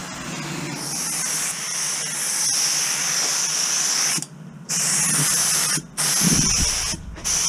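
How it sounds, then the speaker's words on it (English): A cheap Harbor Freight paint gun sprays primer onto a panel at about 25 psi, giving a loud, steady hiss that cuts off briefly three times between bursts. No one speaks. "I'm gonna spray it like that and then adjust it as I go and see what sprays the best."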